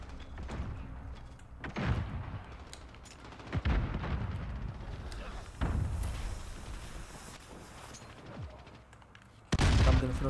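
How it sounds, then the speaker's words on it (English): Cruise missile strikes in Call of Duty Modern Warfare multiplayer beta, with several heavy booming explosions spaced a few seconds apart, each a loud thud followed by a rumbling tail, and the last blast the biggest. "Enemy cruise missile, take cover."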